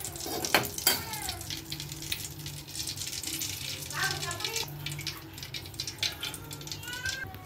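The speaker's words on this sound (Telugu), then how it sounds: "ఇందులో కొద్దిగా నెయ్యి, కొద్దిగా ఆయిల్ అనేది వేస్తానండి" Ghee and a little oil heat in a pan for chicken biryani, giving a steady soft sizzle and crackle with light clinks, faint and continuous throughout.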